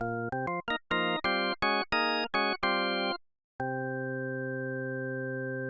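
Hammond-style tone-wheel organ patch in Phase Plant with only some tone wheels engaged. Short staccato chords are played in quick succession, then a brief silence and one long sustained chord, loud and clean with no talking.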